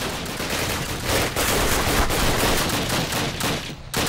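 Sustained gunfire from the Call of Duty video game, dense overlapping shots and bursts filling the whole stretch at steady loudness, with a brief drop near the end; no talking.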